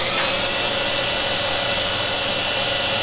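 The small motors of a Holy Stone HS110D toy drone spin up indoors, a steady high-pitched whine with a constant tone, close and fairly loud with no talking.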